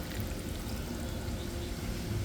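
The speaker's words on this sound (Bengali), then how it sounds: "এখন দিয়ে দিচ্ছি জল" Water is poured into a pan of seasoned fish mixed with potato and eggplant, giving a steady, continuous splashing rush with no talk.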